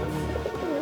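Pigeons in a cage give a brief, soft cooing burst over a steady background hum.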